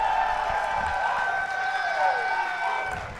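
An audience at a Street Fighter 6 tournament cheers and whoops in a sustained, loud wash of crowd noise that swells briefly midway and eases off near the end.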